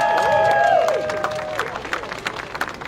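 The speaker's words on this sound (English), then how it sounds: "Can we give them all a round of applause?" Brief applause and cheering from a crowd at a school family fun day, clapping swelling then thinning over a few seconds, with tonal sounds and voices overlapping at the start.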